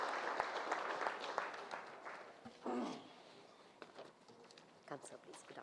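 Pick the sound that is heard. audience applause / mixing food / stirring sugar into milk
audience applause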